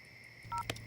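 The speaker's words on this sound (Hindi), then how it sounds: "तुम चिंटू को फोन लगाओ" Two quick telephone keypad tones, brief electronic beeps heard close over a faint background hum.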